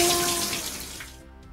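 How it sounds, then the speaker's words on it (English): Running water pouring steadily from a shower, a loud broadband hiss close by that fades out toward the end, with no talking. "She takes a shower."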